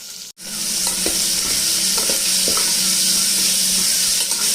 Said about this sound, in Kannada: ಇದನ್ನು ಚೆನ್ನಾಗಿ ಫ್ರೈ ಮಾಡ್ಕೊಳ್ತೀನಿ